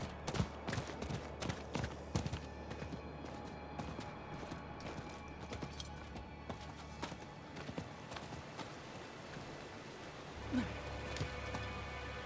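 Horse hooves clip-clop at a steady galloping rhythm as a mount runs in Diablo IV, with a loud, busy game soundscape behind them and a brief swell near the end.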